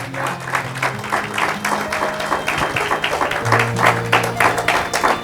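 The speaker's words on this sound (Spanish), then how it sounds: "Dele fuerte el aplauso al Señor." Church congregation applauding during a service, dense clapping with strong individual claps, loud and close, over a sustained low hum and a voice or music underneath.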